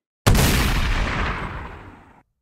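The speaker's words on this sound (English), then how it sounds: "And then I added in this long tail gunshot." A single long-tail gunshot effect made for an RC battle scene: a sharp, loud report whose broad reverberant tail fades steadily for about two seconds, alone with no voices.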